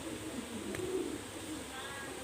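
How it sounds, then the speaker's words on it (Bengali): Pakistani high-flyer pigeons give a low, steady cooing throughout, fairly close and moderately loud, with a brief sharper sound near the middle. "এটা কিন্তু একটা প্যারেস কবুতর"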